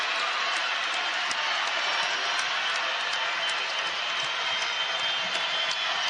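A packed basketball arena crowd at a Big 12 game, Texas at Oklahoma, roars in a loud, steady wash of cheering and scattered clapping that holds throughout with no break.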